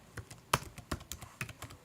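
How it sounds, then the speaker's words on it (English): Keys on a computer keyboard are tapped to enter a number, giving about half a dozen separate, crisp clicks spaced unevenly over a couple of seconds, close and fairly quiet, with no talking. "So I'm going to type"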